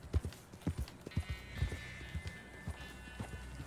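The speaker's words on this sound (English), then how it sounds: "Oh, more horses." Horse hooves clip-clop in a steady galloping rhythm in the video game Red Dead Redemption II, with a faint sustained tone running underneath partway through.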